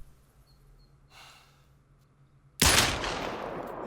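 A single loud Glock pistol shot in the hunting game theHunter: Call of the Wild, a sharp crack with a lingering decay, after a quiet stretch with a faint breath.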